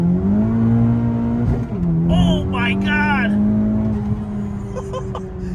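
A 2017 Honda Civic Type R FK8 tuned to Stage 1 with about 420 wheel horsepower drones loudly as its turbocharged engine pulls hard from inside the cabin. The pitch climbs steadily with a brief dip at a shift, while occupants exclaim and chatter over it.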